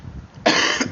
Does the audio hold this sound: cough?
yes